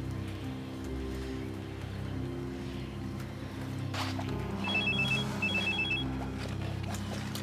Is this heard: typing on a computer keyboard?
no